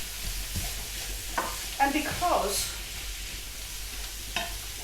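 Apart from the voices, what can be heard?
frying food in a pan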